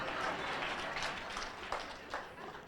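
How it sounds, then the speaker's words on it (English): Clapping from an audience at a university vice-chancellor candidate presentation, a brief spread of many hands applauding at moderate level, a little faint and blurred in the room. "those are Generation Z clapping for me"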